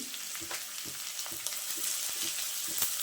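Chopped onion, ginger and garlic fry in a pan with salt, giving a steady, fairly quiet sizzle broken by soft scraping stirs at an irregular rhythm, with no talk.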